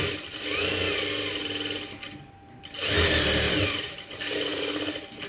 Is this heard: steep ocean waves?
no